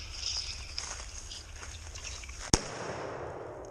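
A single sharp shotgun blast rings out during an outdoor bird hunt near a river, loud and abrupt against quiet background ambience, with a brief echoing tail.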